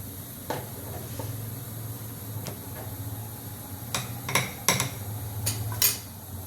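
A spoon stirs gram flour batter in a bowl, giving light clinks and scrapes at first, then a quicker cluster of sharper taps near the end over a steady low hum.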